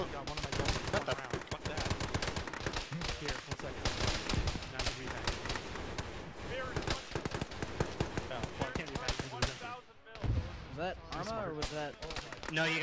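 Rapid bursts of gunfire from a military shooter game, dense and continuous across the clip with a brief lull near the end, mixed with voices talking and laughing over the shots.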